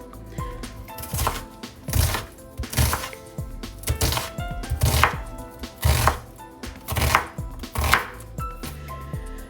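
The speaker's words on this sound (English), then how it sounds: "basically I'm just going to cut these up, rough chop them" Roma tomatoes being rough chopped with a knife on a cutting board, a steady run of close, firm thuds and slices repeating about twice a second, with no talking.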